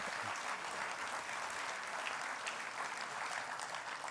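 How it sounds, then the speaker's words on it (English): Applause from a conference audience for a raffle winner, a steady dense wash of many hands clapping that continues evenly throughout, heard from some distance in the room. "So a round of applause."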